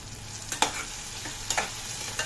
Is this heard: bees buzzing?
no